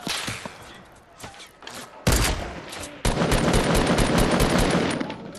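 Video game gunfire comes in rapid automatic bursts, first sparse shots, then a sudden loud volley and a sustained dense stream of shots, close and harsh, with faint talk underneath.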